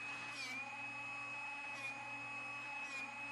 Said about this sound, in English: When sharpening, listen carefully to the sound your Drill Doctor makes.